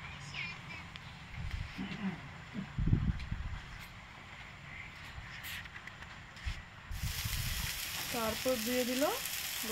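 Chana dal dropped into a pan where mung dal is already frying with bay leaf, giving a steady sizzle with brief stirring clatters and a louder burst near the end, under faint background voices.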